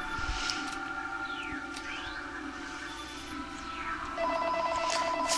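A telephone rings with repeated electronic warbling tones and rising chirps, fairly quiet and steady, set against a low ambient hum in a video game.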